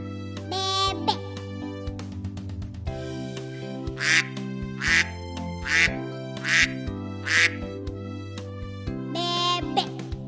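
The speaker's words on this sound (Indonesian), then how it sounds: "Bebek." A farm duck quacks in a series of short, nasal calls repeated at a steady pace over soft background music, close and clear.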